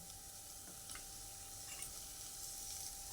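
Green peas tipped into hot spiced oil masala for a potato curry, giving a steady, moderately quiet sizzle with a few soft ticks and scrapes over about three seconds.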